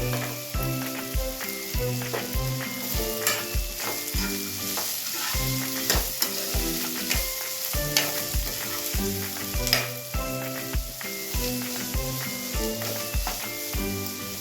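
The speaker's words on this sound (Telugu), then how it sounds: "పోపు వేగిపోయిందండి ఇందులో నాలుగు ఉల్లిపాయలు చిన్న సైజులో కట్ చేసుకున్నామండి అవి వేసుకుంటున్నాము" Four small-cut onions go into tempered oil and fry with a steady, close sizzle and crackle throughout, under rhythmic tonal background music. No one talks.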